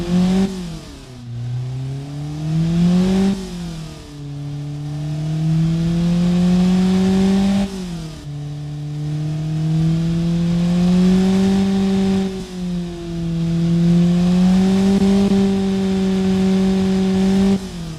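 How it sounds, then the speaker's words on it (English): A stock inline-four car engine revs repeatedly from idle, each blip climbing and falling in a steady rhythm of about four rises, loud and close with no voices. "the engine is sounding really good as a stock engine, you know, stock inline 4 engine"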